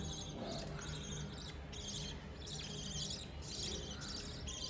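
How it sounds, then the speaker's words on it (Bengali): Many baby birds at a breeding setup chirp continuously in high, busy tweets, with no pauses, over a steady background hiss. "আপনারা অবশ্য পাখির বাচ্চার আওয়াজ পাচ্ছেন এখানে অনেকগুলো বাচ্চা আছে"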